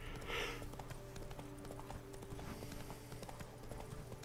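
Horse hooves clip-clop steadily in The Witcher 3, a quiet, even trotting rhythm under game ambience with faint tonal music, no talk.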